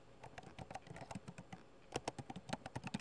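Quick, light keystrokes on a computer keyboard while entering a spreadsheet formula, a steady patter of close clicks with a faster, louder flurry toward the end.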